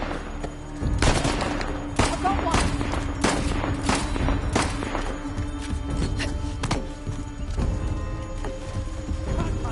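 Gunfire in the video game Uncharted: The Lost Legacy, repeated sharp shots in quick irregular bursts, continuous and loud throughout the clip.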